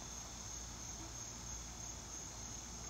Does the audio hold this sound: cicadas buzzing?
yes